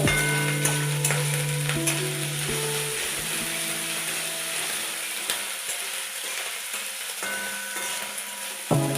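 Ginger and garlic paste frying in a pan for a Bengali beans and potato sabji, a steady broadband sizzle that carries on throughout, with a low hum and a few faint clicks from the pan.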